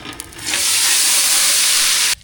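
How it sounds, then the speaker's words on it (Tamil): Mustard seeds sizzle in hot oil for a South Indian sambar tempering, a loud, steady, broadband hiss that swells after a brief softer start and holds strong before cutting off abruptly near the end. "சாம்பார் தாளிக்கிறதுக்கு எண்ணெய் சூடாகிட்டு கடுகு சேர்த்துக்கலாம்"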